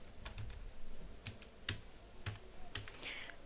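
Keys clacking on a computer keyboard as a title is typed, a few separate quiet taps in an irregular rhythm, close by in a quiet room.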